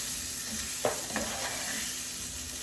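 Garlic and vegan beef tips sizzle steadily in a frying pan while a utensil stirs them, with two short scraping strokes standing out against the constant fry close by.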